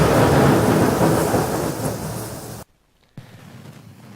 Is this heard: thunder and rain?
yes